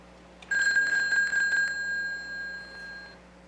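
A payphone, being tested after its wiring was set up, rings when it is called from another line. Its bright electronic ring is one sustained burst of about two and a half seconds, heard close up, and then it stops.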